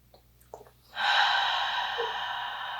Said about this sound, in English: We'll just take a couple more breaths together here, wherever you are.